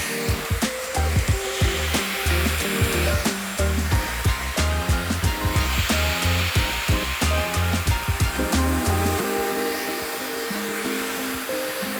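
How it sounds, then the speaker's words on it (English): A hair dryer blow-drying hair while a brush works through it, a loud steady close-up whir broken by rhythmic brushing strokes and short muffled bursts, with no talking. "I want to like properly blow dry my hair"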